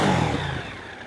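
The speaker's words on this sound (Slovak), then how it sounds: "typický zvuk toho štartéra, ktorý ako keby neochotne obracal tým mohutným motorom" Starter motor of a Moto Morini Super Scrambler 1200 slowly turning over its big Italian engine, a short close-up whirring crank that fades over about a second.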